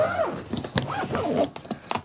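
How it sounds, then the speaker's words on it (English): Expansion zipper on a Quince 21-inch expandable hard shell carry-on suitcase being drawn open, a close rasping zip with several short strokes and brief pauses, alone without talk. "So with the expansion zipper,"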